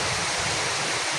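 A brief stretch of heavy village rain, constant dense rushing noise with wind in the background, loud and unchanging, no talking.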